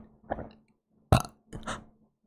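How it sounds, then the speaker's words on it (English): Burps punctuate a fantasy dragon-lair tabletop story, with a quick loud eructation standing out among softer gulping sounds before and after it, close and otherwise quiet. "you burp"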